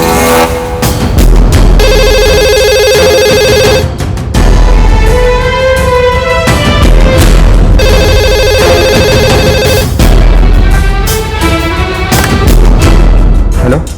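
A telephone ringing in an audio drama, a landline call sounding in two long repeated bursts of electronic trilling tones with brief pauses between, loud and close with no voices.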